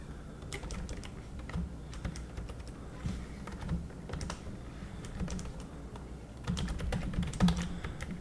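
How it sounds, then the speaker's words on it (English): Keyboard typing while entering an email and password to sign up for an online question bank, with steady soft keystroke clicks in bursts over a constant low room hum, no voices. "I'm gonna type in"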